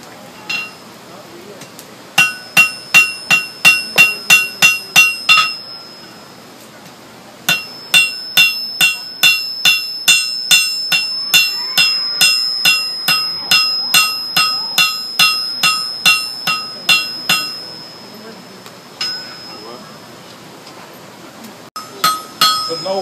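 A blacksmith at Silver Dollar City hammers steel while forging a knife, with bursts of loud, ringing metallic strikes in rapid even rhythm, pausing briefly between runs, close and bright against faint background murmur.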